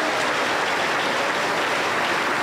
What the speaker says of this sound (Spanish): la recibimos con fuertes aplausos para el Señor Jesús